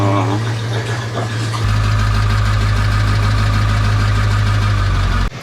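An International truck engine runs while towing a trailer, a loud, close, low droning rumble that deepens and swells partway through, then cuts off abruptly near the end.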